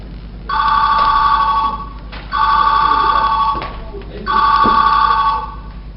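A mobile phone rings at an outdoor local festival, three even bursts of an electronic ring, each about a second and a half long with short gaps between, close and clear over faint background murmur.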